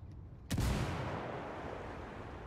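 A grenade goes off in a first-person shooter game, a single sharp blast followed by a long rumbling decay, moderately loud against faint background.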